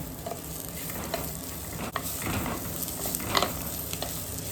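Shallots stir-fried in a pan over a high flame for Kerala prawn theeyal, a steady close sizzle broken by the scrape and clatter of stirring, with a sharp knock near two seconds.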